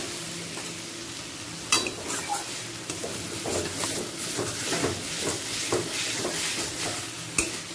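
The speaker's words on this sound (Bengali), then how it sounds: "কড়াতে একটু ঠিক খুন্তির সাহায্যে এইভাবে একটু ঘেটে নিচ্ছি।" A spatula scrapes and stirs food in a kadai over a gentle background sizzle, with occasional sharper metallic knocks against the pan and a soft, continuous frying hiss.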